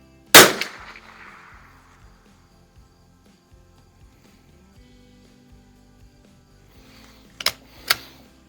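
A 1949 Mossberg 142A rifle fires one sharp close shot, then after a long quiet pause two more quick cracks close together near the end, with no talk.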